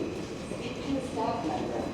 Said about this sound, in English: I just got off the subway here